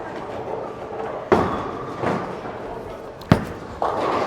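Zen bowling ball rolling down a league lane with a low rumble, followed by sharp clattering impacts of pins, a couple of distinct crashes close by in a noisy alley.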